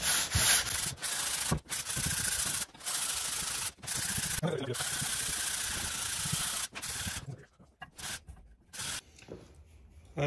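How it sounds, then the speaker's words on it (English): Hand sanding a Ford 8N tractor body panel with a sanding block, long rasping strokes repeated in an uneven rhythm with short pauses between passes, close and fairly quiet. "I've been sanding for quite a while now."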